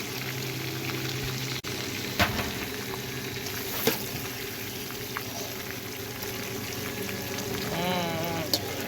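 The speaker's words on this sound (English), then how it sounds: "my sausage is where I want it. It's done browning." Sausage browning in a pot for homemade gumbo gives a steady, close sizzle and crackle of frying fat, with a few sharp clicks and spits along the way and no talking.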